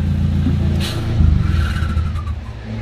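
A car engine idles and rumbles steadily up close, with a brief rise in revs partway through and a few faint metallic knocks. The car has a dragging, stuck brake.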